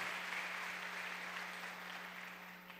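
A congregation applauds during an online church service, a steady wash of many hands clapping at moderate distance, slowly fading over a constant low electrical hum.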